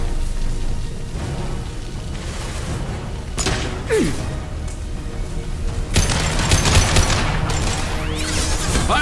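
Weapon fire in Mass Effect 2 during the Shadow Broker's lair mission: dense crashing blasts and impacts over a continuous rumble, with a louder burst of shots near the end.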